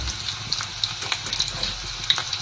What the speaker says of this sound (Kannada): ಇವಾಗ ಒಂದಷ್ಟು ಫ್ರೆಂಚ್ ಫ್ರೈಸ್ ಒಟ್ಟಿಗೆ ಹಾಕ್ತೀನಿ